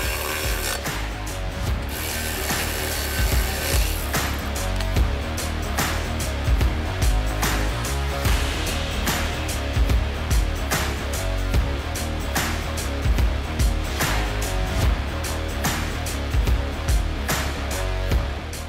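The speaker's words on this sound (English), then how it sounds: "And go ahead and tighten those down." Bolts on a Model 1020 Turnoverball gooseneck hitch tightened during installation, most likely with a ratchet wrench: repeated close, loud metallic clicking bursts in an irregular rhythm, with brief pauses between runs. Nobody talks.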